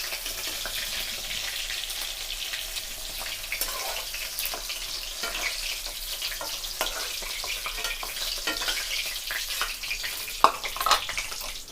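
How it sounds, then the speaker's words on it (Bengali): Chicken pieces for chili chicken fry in hot oil with a constant, bright sizzle, broken by occasional stirring clinks and small pops. "এইভাবে বাকি চিকেনগুলো আমরা ভেজে নেব।"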